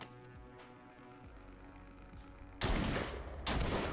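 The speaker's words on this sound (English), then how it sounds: "She took a shotgun round to the chest" Two loud, close shotgun blasts in The Walking Dead: Saints & Sinners VR, the second following the first by under a second, with a humming game background and no talk before them.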